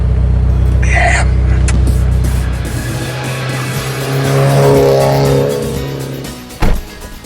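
A Toyota 86 sports car engine roars close by, revving and accelerating with a brief tire squeal, loud and sustained, with faint voice traces underneath.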